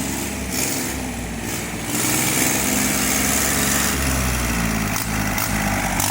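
An old Japanese Kubota B1702 tractor with a three-cylinder 17 hp engine and four-wheel drive runs close by, giving a steady, loud diesel drone that rises slightly partway through, with no voices.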